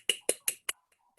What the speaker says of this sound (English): I'm going to clap for you guys for dancing so well